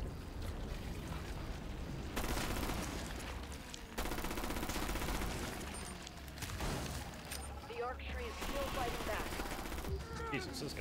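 Bursts of gunfire from the video game Rainbow Six Extraction, coming in several separate volleys of rapid shots over game noise, with a player talking in between.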